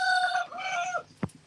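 A rooster crows loudly and close by in a long drawn-out call, followed by a short sharp sound near the end, with no talking over it.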